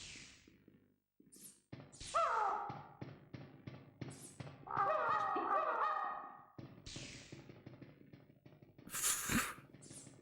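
Enemies in the video game MediEvil 2 squawk in bird-like bursts, with several sharp, nasal, chattering calls spaced among the game's clicks and thumps, loud and close with no talk.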